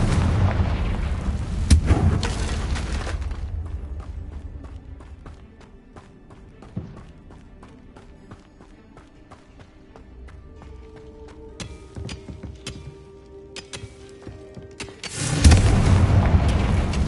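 Confringo fire spells burst with loud booms at the start and end in Hogwarts Legacy, separated by a quieter stretch of game ambience and faint effects.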